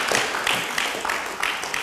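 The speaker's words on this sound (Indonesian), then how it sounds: "kita beri tepuk tangan" Applause from an audience at a televised Indonesian discussion show: a short, dense burst of many hands clapping at once, fairly loud, pulsing slightly as it goes.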